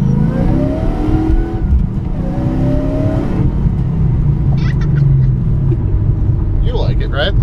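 A car engine with a modified air intake revs and rumbles loudly and steadily nearby, with a rising whine at the start and faint voices briefly in the background toward the end.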